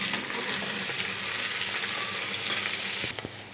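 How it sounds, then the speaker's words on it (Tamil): Diced carrots, potatoes, green peas and beans fry in a pan over a slow flame, giving a steady close hiss and crackle with a few stirring scrapes near the end. "ஸோ ஸ்லோ ஃப்ளேமில் நம்ம இந்த வெஜிடபிள்ஸ் நல்லா குக் பண்ணிடலாம்."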